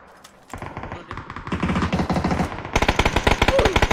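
Automatic gunfire in PUBG, heard as rapid bursts of sharp shots that start faint and grow louder and denser, becoming a steady close-range volley by the end.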